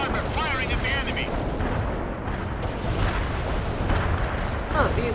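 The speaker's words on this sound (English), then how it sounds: "Heavy armor firing at the enemy." Heavy armor artillery booms and rumbles in the World in Conflict video game, dense continuous battle noise with loud blasts under radio-style voice chatter.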